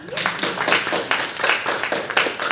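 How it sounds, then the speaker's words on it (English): Applause from an audience at a poetry reading in a visiting writers series, a steady wash of clapping with slight pulsing swells, moderately loud and unaccompanied by talk. "Clap it up."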